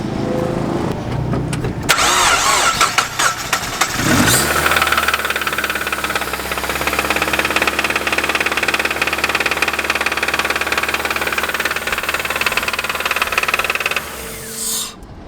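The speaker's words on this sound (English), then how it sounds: "You want to hear what the car sounds like?" A loud Miata track car engine starts with a roar and runs at a high, steady idle for several seconds at Laguna Seca, crackling and knocking, then cuts off.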